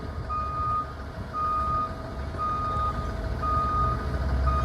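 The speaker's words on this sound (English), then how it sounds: "So you see the buses are backing up now." A Q6 bus backing up at a wide bus terminal gives off steady, evenly spaced electronic reversing beeps over a low idling engine rumble.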